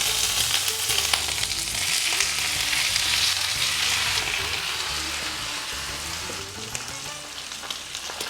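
Green chili slices and curry leaves sizzle and crackle loudly in hot oil, a dense continuous frying hiss with small pops and stirring scrapes throughout.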